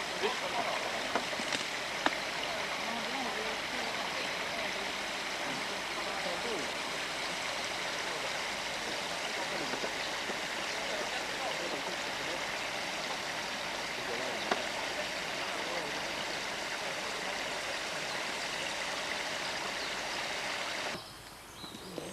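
Water rushes steadily out through a breached beaver dam on a stream, a continuous broadband wash with gurgling, close and fairly loud, with faint voices now and then.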